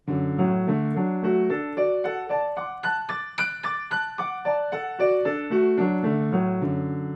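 Flowing piano arpeggios rise and fall across the keyboard, bass notes below and higher notes above, played steadily and alone at moderate volume.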